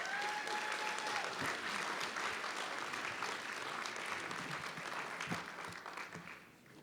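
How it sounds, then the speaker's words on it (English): An audience at a 2016 honor convocation claps steadily, a dense patter of many hands that holds for several seconds before fading slightly at the end. "So give yourselves a round of applause."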